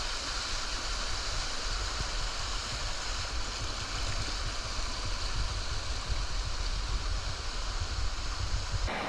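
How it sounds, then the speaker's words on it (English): Walupt Creek Falls, a massive 221-foot waterfall over 200 feet wide, roars as a steady, dense broadband rush, close and constant throughout with no voices. "Walupt Creek Falls is a massive 221-foot drop"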